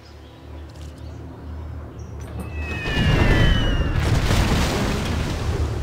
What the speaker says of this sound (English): Now that actually looked like they fired some kind of cannons